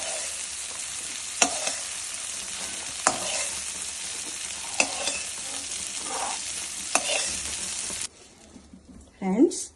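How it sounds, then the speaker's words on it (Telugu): Green peas frying lightly in a pan, a bright continuous sizzle with periodic stirring clicks, then the sizzle cuts off abruptly near the end, followed by a brief burst of talk. "లైట్గా ఫ్రై చేస్తే చాలు గ్రీన్ బఠానీ"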